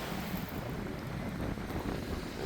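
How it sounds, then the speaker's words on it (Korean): Strong winter wind gusting outdoors at sunset, a steady loud rushing roar buffeting the microphone throughout with no voices. "겨울 바람이 세차게 불어오고"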